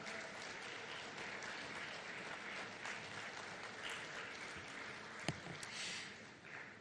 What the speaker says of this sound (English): A big, loud round of applause for the former Congress President